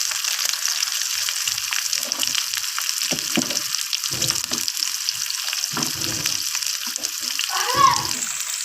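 Tomatoes lightly frying in a pan hiss in a continuous close sizzle, with scattered soft clinks and stirring noises now and then.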